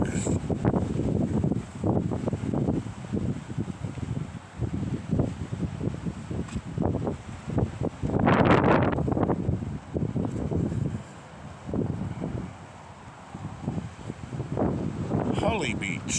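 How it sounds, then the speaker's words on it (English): Strong wind buffeting the microphone at Sudbury Beach in Penticton, with loud, gusty roaring rumbles that swell and fade throughout, peaking in a heavy burst midway, while a person talks over it. "That wind, holy smoke."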